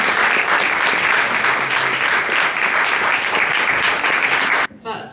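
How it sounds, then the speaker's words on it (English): An audience at a climate-reparations panel event gives a speaker loud, sustained applause, a thick continuous roar of clapping. It cuts off abruptly near the end, where a voice briefly takes over. "So please give her a big round of applause."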